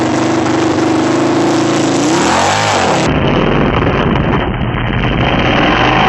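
A big motorcycle engine runs loud and steady while the bike is clutched up a ramp onto the back of a pickup truck, its pitch briefly dipping and swelling midway.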